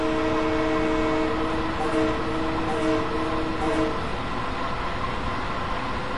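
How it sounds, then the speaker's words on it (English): A Long Island Rail Road express train rushes past, a steady loud roar of wheels and cars on the track with a sustained horn-like tone sounding early on. "Looks like this is an express train."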